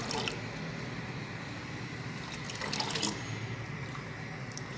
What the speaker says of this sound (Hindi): अब इसको मुसलसल फेंटते जाएंगे, फेंटने से ही इसका कलर निकलेगा।